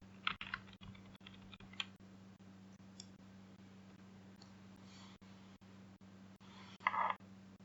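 Computer keyboard typing, fairly quiet and close: sparse individual keystroke clicks spaced irregularly, with a couple of quick bursts of keys, over a steady low electrical hum.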